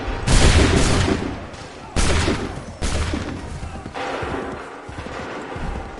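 Musket volleys in Assassin's Creed 3 crack out in three heavy, rolling bursts a second or so apart, each one a ragged crowd of shots that booms and then tails off, with shouted commands in the background.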